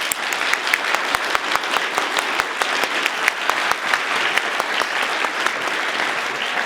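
Audience applause at an open-mic learning conference battle session, a dense sustained patter of many hands clapping at steady loudness, with sharp individual claps standing out and no talk over it.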